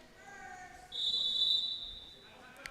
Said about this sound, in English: Whistle here, timeout.